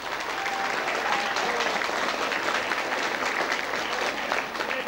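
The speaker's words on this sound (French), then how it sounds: "on peut les applaudir" A crowd at a public gathering in Mandeure applauds volunteers with steady, dense clapping that stays loud and even from start to finish.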